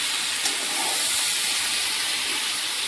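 Curry leaves and mustard seeds hitting hot oil give a steady, loud broadband sizzle and hiss that holds evenly throughout, with no talk over it.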